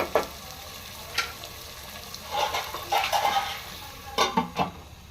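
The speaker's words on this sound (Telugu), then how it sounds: "దీన్ని ఫ్రై అవనిద్దాం." Mixed vegetables for vegetable biryani frying in a pot, a steady crackling sizzle broken by several clinks and scrapes of a spoon stirring against the metal, close and fairly loud.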